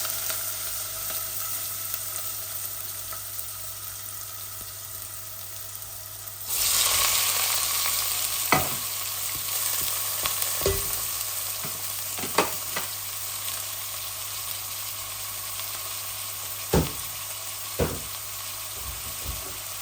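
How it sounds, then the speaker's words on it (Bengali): Chopped onions hit a hot pan and start a loud, steady sizzle and fry that carries on, punctuated by occasional clicks and scrapes of stirring, close up with no talking. "পেঁয়াজ দিয়ে দিচ্ছি আমার পরিমাণ মতো।"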